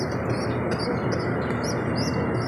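Newly hatched pigeon chicks chirp in steady, dense high peeping over a constant noisy background, with no talk.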